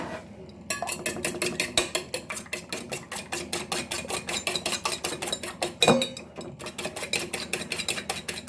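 A fork whisks eggs rapidly against a bowl in a fast, steady clicking rhythm, pausing briefly before resuming.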